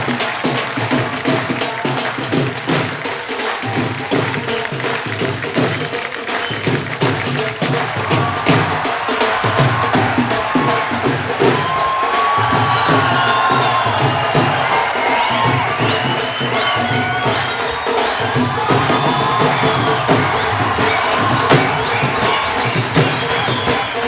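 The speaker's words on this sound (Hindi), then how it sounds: "जोरदार तालियों से एक बार स्वागत कीजिए" A television comedy show studio audience breaks into loud, sustained applause and cheering, a dense crowd roar of clapping and whoops that holds steady throughout.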